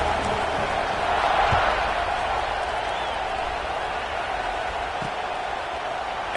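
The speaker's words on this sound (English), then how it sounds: "this crowd is feeling themselves after that last drive" A large football stadium crowd roars at kickoff in a college game, a broad, continuous wash of distant cheering that holds steady throughout.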